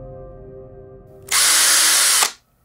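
Deep borehole drilling, heard as a loud, harsh high-pitched whine that starts suddenly, holds steady for about a second, then cuts off, following a quieter low mechanical hum.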